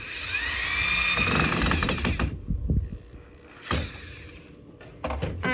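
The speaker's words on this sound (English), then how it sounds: "get it lined up, and then you just drill it in" A power drill drives screws into angled pocket holes, with whirring bursts of the motor spinning up and down, a short pause, then two more quick runs, close and loud.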